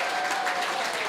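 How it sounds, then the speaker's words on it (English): Audience applause from one side of a room full of people, a dense, steady wash of many hands clapping together at close range, with no voices rising above it. "Can I hear a big round of applause from this side of the room?"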